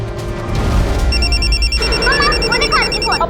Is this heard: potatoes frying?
no